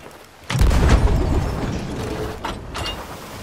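Ship sails being raised in the pirate game Sea of Thieves: a sudden heavy creaking, rumbling rush of rigging that swells then eases, with a couple of later wooden clunks.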